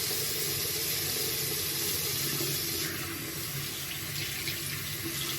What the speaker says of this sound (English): I use this to wash my hands, and I wash my hands first.